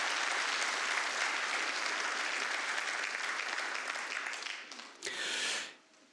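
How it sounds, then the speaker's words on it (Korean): A church congregation at a Sunday worship service gives warm applause, a broad sustained wash of clapping that thins out, ends with a brief flurry, then fades. "여러분들 한번 뜨거운 박수로 격려해 주셨으면"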